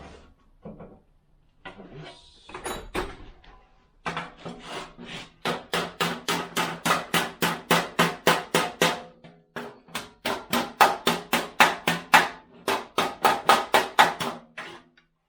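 A small hammer taps to straighten a slam panel on a 1993 Range Rover LSE in a workshop, striking in a fast, steady run of sharp metallic blows, close and loud, pausing briefly near the middle before a second run.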